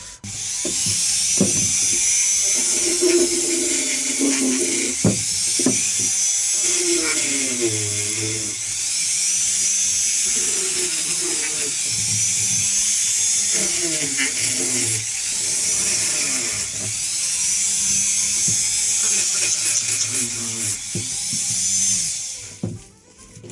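A shoe sole, new or used, is power-sanded where primers will go, making a steady high-pitched electric whine that runs almost unbroken, loud and close, with faint speech now and then.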